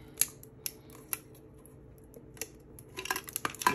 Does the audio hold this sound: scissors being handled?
yes